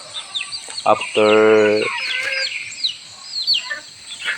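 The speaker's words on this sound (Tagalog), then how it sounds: "4 na native na manok, 2 inahin at saka 2 ang lalaking manok guys" Native chickens, hens and roosters, give a loud nearby crow or squawk, with scattered clucks and chirps around it and a person talking in between.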